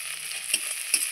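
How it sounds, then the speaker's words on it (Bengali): Vegetable fritters frying in a pan, a soft continuous sizzle with two brief clinks of a utensil against the pan, and no talking. "এইভাবে ভেজে নিলাম, আমার ভাজাটা হয়ে গেছে"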